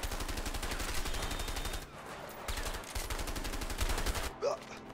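Rapid automatic gunfire rattles in loud, sustained bursts during a firefight in the video game A Way Out, with brief breaks between volleys.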